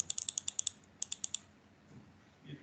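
Typing on a computer keyboard: two quick bursts of crisp, light key clicks, about seven and then four strokes, fairly faint in a quiet room.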